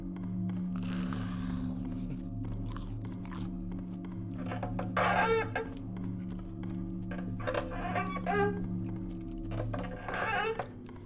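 Close-up chewing of chicken bites, soft wet crunches and mouth sounds arriving in irregular clusters over a faint low hum, quiet and intimate like an eating recording.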